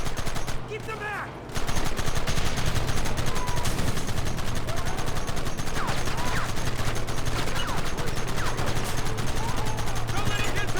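Rapid, sustained gunfire in a Red Dead Redemption shootout, dense volleys of rifle and pistol shots cracking almost without pause after a brief lull, with voices shouting amid the noise.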